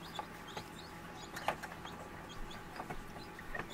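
Newly hatched baby chicks peeping inside an incubator, scattered short high chirps at low volume over a humming background, with no one talking.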